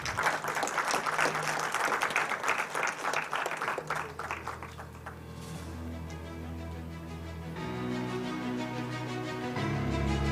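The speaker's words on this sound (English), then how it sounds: "Can we have a big applause?" An audience at an auto skills conclave breaks into applause, dense clapping for about four seconds that fades out as sustained music with held tones takes over and carries on to the end.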